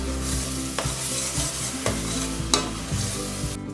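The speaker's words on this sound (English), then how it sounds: "Add the tomatoes. And cook till the tomatoes the paste starts to leave oil from the side." Tomato paste cooking in oil crackles loudly and close by, with a spoon stirring and scraping the pan in steady, repeated strokes and no voices.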